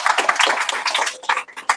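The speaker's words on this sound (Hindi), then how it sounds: "जोरदार ताली" Students in a classroom clap together in a brief, dense burst of applause lasting under two seconds, loud and close.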